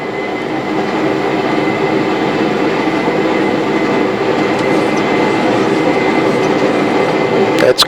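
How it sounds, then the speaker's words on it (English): Airliner jet engines spooling up to takeoff thrust, a steady loud broadband roar filling the whole clip and building slightly toward the end. "There's your takeoff thrust coming in."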